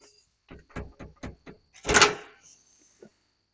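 A newly installed door during a home renovation in Izu, with a series of quick knocking clunks followed by a louder swinging thud and a faint final click, close by with no talking.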